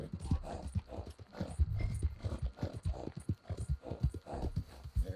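A horse clip-clops at a steady trot in the Red Dead Redemption 2 online world, its hoofbeats rhythmic and fairly close, with soft game ambience under it.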